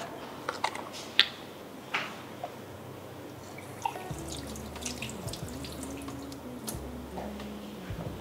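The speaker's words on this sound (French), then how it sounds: "tu peux remplir un demi-verre" Water runs from a tap into a glass in a kitchen, a thin trickling flow with a few sharp clinks early on, then a low steady hum and rattling mechanical noise toward the end.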